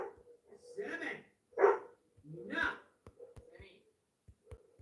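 A dog barks in short sharp bursts in a quiet indoor setting, with several loud yaps spread across the clip and brief gaps between them, followed by a few faint clicks and low yips near the end.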